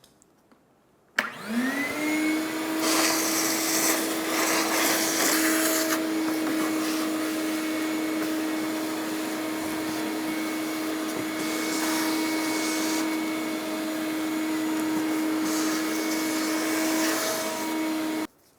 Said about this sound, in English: I'm going to use a vacuum and clean up around this plate that we're going to be taking off.